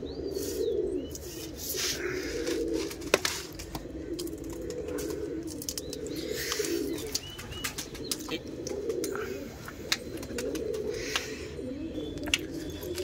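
Pet pigeons coo in low, repeated throaty rolls while being fed a grain mix of wheat, green mung, chickpeas, maize, rice and millet, with occasional sharp taps and light chirps nearby.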